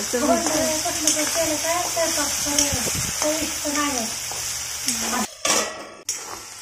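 Green chillies sauté in a pan for sabudana khichdi, a low steady sizzle heard under a woman's close speech, followed by a few metallic clanks of a utensil against the pan.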